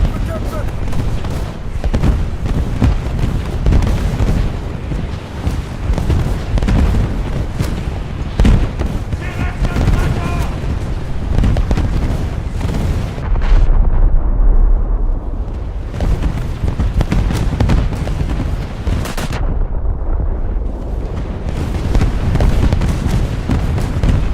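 High-explosive shells burst around a battleship in a naval combat game, in dense continuous rumbling booms and blasts with no letup, loud throughout.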